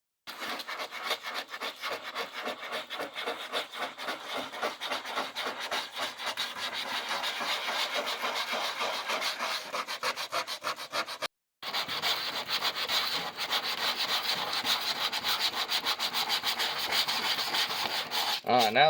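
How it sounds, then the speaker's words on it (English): Plastic 6.5-inch light pods for a 2021 Polaris RZR roof are scuffed by hand with sandpaper ahead of epoxy, giving a close, continuous rhythmic rasping that stops briefly midway and then resumes. "now that we got both of them sanded up"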